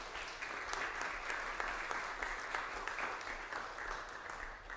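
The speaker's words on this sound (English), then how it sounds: "Please give them all a round of applause." Audience applause at a poetry recitation competition in a university alumni and visitors center, a sustained, even patter of many hands clapping, fairly distant and steady throughout.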